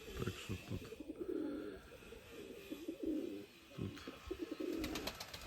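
Pigeons coo in low, throaty, repeated bursts, close by, with faint chirps and rustling around them.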